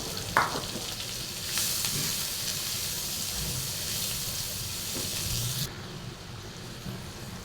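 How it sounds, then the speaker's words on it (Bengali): Chopped onion and green chili hit hot oil, giving a sudden close sizzle. It settles into a steady crackling fry with some stirring and eases off near the end. "সেই তেলের ভিতরে এখন পেঁয়াজ কুচি অনেকগুলো এবং কাঁচামরিচ কুচি দিয়ে দেব"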